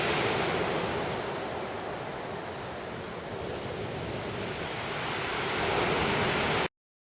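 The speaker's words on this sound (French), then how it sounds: "le vent souffle toujours puissamment" Strong wind and waves at sea off the coast of Iceland roar as a continuous, loud wash of broadband noise with buffeting wind on the microphone, steady throughout before cutting off abruptly near the end.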